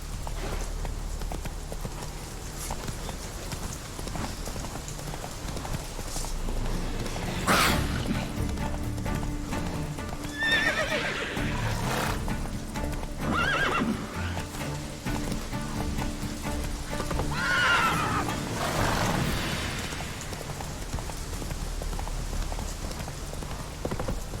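Roach, a horse in The Witcher 3, gallops with steady, rapid hoofbeats close by, and a few louder thuds and rustles stand out along the way.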